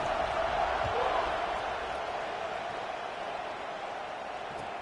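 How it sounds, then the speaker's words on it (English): Football stadium crowd buzzes after a score, a broad steady roar of many voices at a distance that fades slightly over a few seconds. "this crowd is buzzing after that last score"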